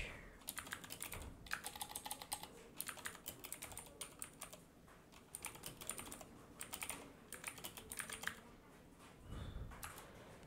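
Rapid, uneven typing on a computer keyboard, clicking in quick bursts with short pauses between them, fairly close and moderately quiet, with no one speaking.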